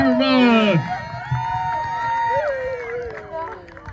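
A crowd at a Samoan ward summer activity cheers and shouts encouragement for a runner, with loud overlapping voices, whoops and calls carrying across the whole stretch, close and lively.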